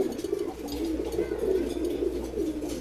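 A male pigeon, one of a mixed-colour pair bred from a ghiyachulli cock and a chila hen, coos in low repeated rolling phrases, steady and close, with no talk.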